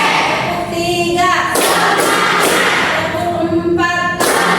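Classroom students clap a counted rhythmic pattern in unison, with loud broadband bursts of clapping alternating with a teacher's voice counting and calling out, close and lively in a noisy room.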